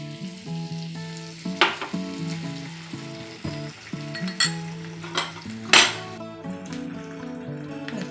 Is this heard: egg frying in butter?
yes